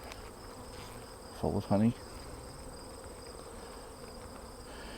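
Honey bees hum in a continuous, even drone inside an open hive, with a short spoken remark rising briefly over the buzzing.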